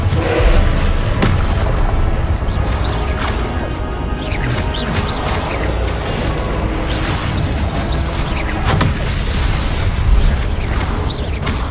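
Repeated Confringo blasting-spell explosions from the video game Hogwarts Legacy, loud booming blasts and crashes packed one after another with dense rumbling debris and no gaps of quiet throughout.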